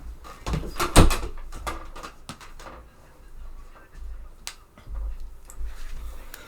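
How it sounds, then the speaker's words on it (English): A door is shut indoors with a sharp close-up clack and thump, followed by several smaller knocks and handling bumps, with faint background rustle. "Let me shut this door here."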